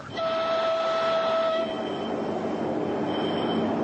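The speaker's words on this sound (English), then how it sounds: "This train, with its hidden missiles, capable of launching 30 warheads on the move." A Russian missile-carrying train rolls past with a sustained rumble, a long tonal horn or squeal in the first half, then a steady clatter that continues to the end.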